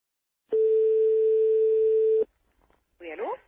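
A telephone call tone sounds as one steady, loud electronic beep lasting under two seconds, followed by a brief pause and a short burst of distorted voice on the line.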